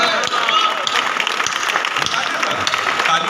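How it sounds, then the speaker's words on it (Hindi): Audience applause at a kavi sammelan poetry recital in Unnao, a steady dense wash of clapping from a crowd that carries on without a break for a few seconds. "ताली कमजोर है आपकी।"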